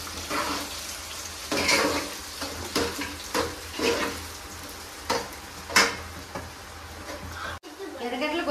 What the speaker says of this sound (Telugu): ఎర్రగడ్డలు కొద్దిగా వేగాయి